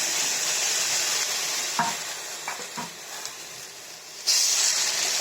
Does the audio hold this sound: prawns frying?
yes